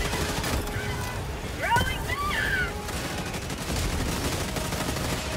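Robot enemies fire guns in Helldivers 2, a steady, dense wash of gunfire and laser shots behind the player, with a whistling sweep and occasional louder bursts.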